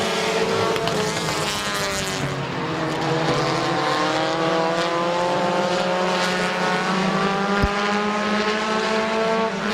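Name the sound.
compact race cars racing final lap at Midvale Speedway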